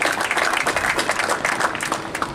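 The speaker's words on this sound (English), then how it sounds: "So let's go ahead and give claps and all that for the fighters up" An audience at a boxing press conference claps for the fighters, a brisk, steady burst of applause that lasts the whole moment.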